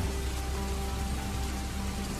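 Heavy rain pours in a dense, constant hiss with low rumbling underneath, loud and unbroken throughout, with no voices.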